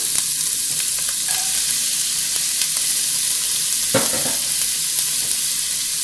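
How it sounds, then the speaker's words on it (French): Onion, carrot and celery sizzle and fry in a pan for minestrone soup, a steady crackling hiss with a few scraping stirs of a utensil, close and continuous without talk. "on fait revenir l'oignon, la carotte, le céleri,"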